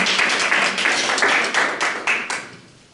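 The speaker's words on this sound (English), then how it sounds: "Give her a round of applause" Audience applause breaks out at a live magic show as a volunteer is called up on stage: dense clapping from a crowd, steady and loud for most of the moment before thinning out and fading at the end.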